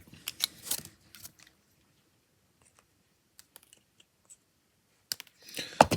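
Sharp snips and clicks of cutting under the feet of 1/24 scale Tamiya model figurines, a few brief bursts separated by near silence, close and quiet.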